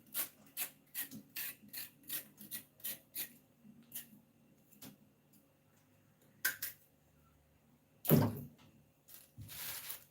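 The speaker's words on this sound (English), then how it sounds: "So most of the time I prefer to scrape the back of it like this." Repeated rasping scrapes of a knife along the back of a fufu ingredient, close and fairly steady in rhythm, about a dozen strokes with a louder knock near the end.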